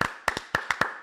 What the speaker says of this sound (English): Let's give Tee Gaskin a round of applause, please.